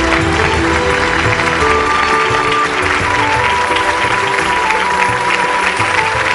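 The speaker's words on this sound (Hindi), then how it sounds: "इनके लिए जोरदार ताली हो जाए।" Loud, steady applause from a studio audience rewarding a contestant's family who beat H1N1 flu, dense clapping that fills the whole stretch with tonal music running underneath.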